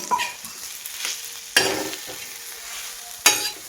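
Intermittent stirring and scraping of chili peanut paste (mirchi thecha) frying in oil on a griddle, a soft sizzle underneath, sharp bursts of scraping recurring every second or two.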